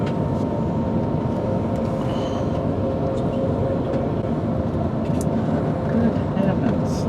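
Train running along the Moselle valley among vineyards, a steady low rumble of wheels and carriage noise throughout, moderately loud, with no distinct events standing out.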